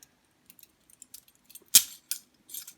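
Real metal handcuffs and their key clink and jangle in scattered bursts, with a few sharper rattles close by.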